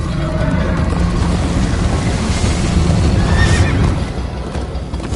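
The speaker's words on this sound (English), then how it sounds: "First time on a horse here." In Minecraft: Story Mode Episode 4, a horse whinnies loudly over the rapid drumming of galloping hooves, with a continuous rushing background throughout.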